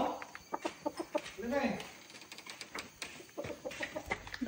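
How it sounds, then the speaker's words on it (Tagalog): Chicken clucking in a rural spot on an off-road trip, short clucks and a rising squawk heard at moderate distance, mixed with people talking nearby. "May manok."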